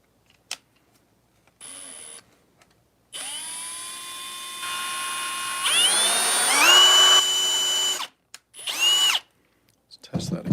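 A power drill whirs in short bursts then a long run, rising and falling in pitch as it bores deeper, close and loud with quiet gaps between.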